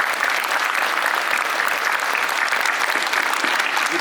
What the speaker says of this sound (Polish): proszę o brawa dla wszystkich naszych gości